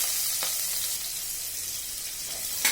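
Chopped onion and garlic frying in hot oil in a frying pan, giving a steady, close, bright sizzle that holds evenly throughout with no voices.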